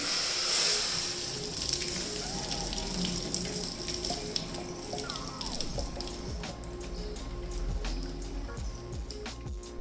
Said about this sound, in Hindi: यहाँ पे मैं रखूँगी एक छन्नी और इसका ये जो सारा पानी है हम कर देंगे ड्रेन